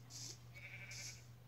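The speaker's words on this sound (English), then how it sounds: "Pink sheep, move out the way." Two short bleats from a pink sheep in a blocky sandbox survival game, thin and fairly faint, separated by a brief pause over a low steady hum.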